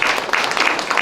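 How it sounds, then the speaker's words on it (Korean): A forum audience claps in welcome for a guest, a short burst of steady, close applause filling the room with dense, even clapping. "박수 환영해 주십시오"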